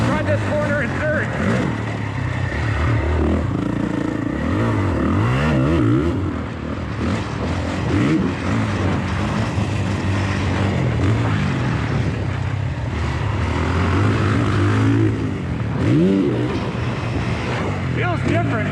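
A dirt bike is ridden through a corner in third gear on a rough trail. The engine drones loudly and rises and falls in pitch as the throttle opens and closes, with wind rush and a voice buried under the engine noise.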